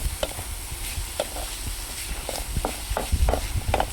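Browning onions fry in a pan for a tomato relish, the constant sizzle punctuated by frequent clattering stirs and scrapes of a spoon against metal, close up and without talking.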